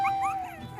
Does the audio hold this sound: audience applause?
no